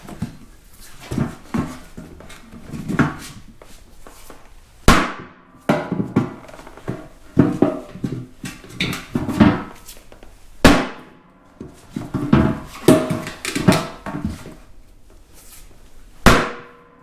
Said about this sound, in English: And the big sledge with the heavy blocks seems to be doing the trick.